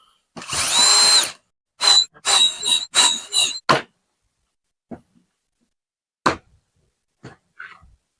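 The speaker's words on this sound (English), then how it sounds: "it's a special drill bit. Drills a pilot hole and the screw hole at the same time." A power drill fitted with a combination pilot-hole and screw bit drives a screw into wood while fitting drawers on an old abandoned armoire. One long whirring burst comes first, then three shorter revs close together, then quiet with a few faint knocks and clicks.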